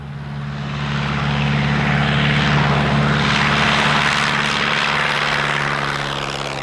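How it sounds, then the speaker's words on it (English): A de Havilland Tiger Moth's propeller engine drones loud and steady, swelling slightly as the light biplane passes close, then easing off at the end, with no voices over it. "I've always liked light aeroplanes, and the Tiger Moth is a classic."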